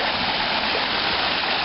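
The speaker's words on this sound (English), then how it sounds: "is the water that's pouring out over, causing the erosion" Storm water pours out in a dense, continuous rushing roar, loud and close like a small waterfall, as runoff surges over an edge and erodes the ground.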